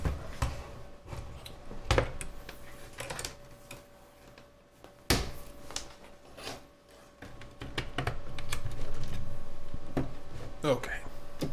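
Keys clack irregularly on an old computer keyboard being tested after long disuse on a homebuilt PC. Bursts of clicks and sharper clatters come up close, with no talking.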